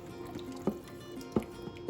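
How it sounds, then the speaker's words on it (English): Red sauce is poured into a pot of chicken and hominy for pozole rojo, a faint, steady liquid trickle and slosh with a couple of soft splashing thumps, no speech. "So now we're going to add in the sauce. Just pour it all in there."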